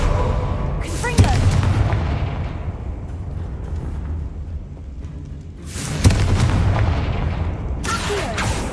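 Confringo blasting spells explode in the video game Hogwarts Legacy, three deep booming blasts spaced a few seconds apart with rumbling tails, loud and close.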